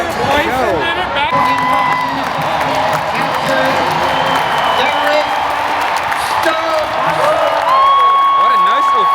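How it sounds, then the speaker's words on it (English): Baseball crowd at a Phillies game breaking into a long, loud ovation of steady applause, cheers and whoops for catcher Garrett Stubbs, filling the stadium throughout with scattered shouts rising above the roar. "What a nice ovation this is"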